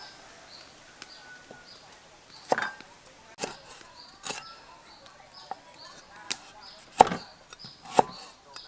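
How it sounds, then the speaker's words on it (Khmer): Lemongrass stalks are sliced with a knife in a village kitchen, giving a few crisp, irregular chops over quiet background birdsong. "បន្តមកទៀតយើងចាប់ផ្ដើមហាន់គល់ស្លឹកគ្រៃ"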